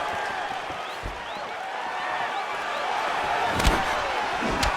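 A packed UFC 281 arena crowd roars and murmurs steadily during the Adesanya vs Pereira middleweight title bout, with a rising swell of cheering and a couple of sharp thuds near the end.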